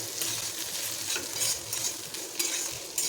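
Spices stirred into bitter gourd and onion curry frying in a pan, a close sizzle with repeated scraping and clinking spoon strokes in an uneven rhythm.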